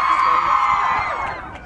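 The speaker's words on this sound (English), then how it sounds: "All the crowd is here." Crowd noise at a concert-type event during BeautyCon, a dense sustained roar of cheering and shouting voices with scattered whoops, loud and steady, slowly easing off toward the end.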